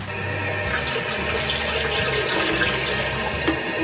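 Dirty water from a Quantum X vacuum pours into a toilet bowl, a continuous loud splashing gush with a low gurgling undertone, close by and uninterrupted.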